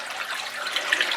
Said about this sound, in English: And we'll let that water run out of the tank.